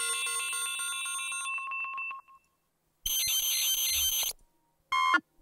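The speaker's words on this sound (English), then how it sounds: "So I'm going to type in beep and see what comes up." Electronic alarm-style beeps from a sound effects library: a sustained repeating tonal beep pattern that slows and fades, then after a short silence a loud harsh buzzing beep, and finally one brief high chirp.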